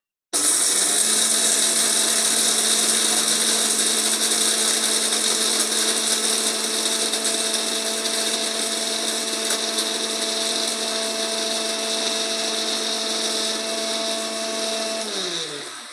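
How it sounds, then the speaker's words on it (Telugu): A kitchen mixer grinder grinds homemade rasam powder, starting abruptly and whirring at a loud, constant high pitch for the whole stretch before spinning down at the end. "ఈలోపు మనం ఈ మిక్సీకి వేసుకున్నాం ఈ రసం పౌడర్ని"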